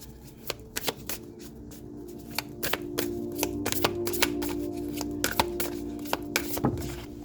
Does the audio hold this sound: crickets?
no